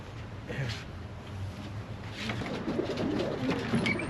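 Racing pigeons in a club loft coo softly and repeatedly, low and close, while people talk over them.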